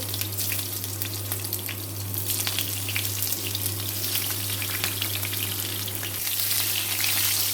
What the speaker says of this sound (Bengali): এখন পেঁয়াজ কুচুগুলো দিয়ে দিচ্ছি